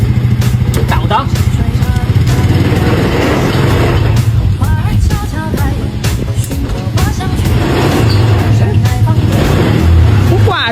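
A kick-started three-wheeled motorcycle for elderly riders runs loud and close. Its engine keeps up a rapid, steady chugging throughout while people talk over it.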